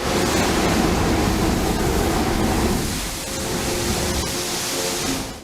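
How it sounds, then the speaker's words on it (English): La Bufadora, a marine blowhole on the Baja California coast, gives a loud roaring rush of surging seawater and spray that eases after a few seconds and then swells again, with no voices. "it is called La Bufadora because it sounds like a very loud and angry animal snorting"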